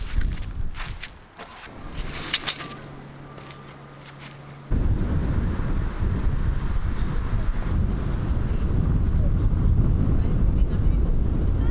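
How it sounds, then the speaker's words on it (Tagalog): Strong wind buffets the microphone at an outdoor campsite, starting with gusty rumbles and light rustling, then becoming a constant loud roar that dominates the rest of the recording. "sobrang lakas ng hangin"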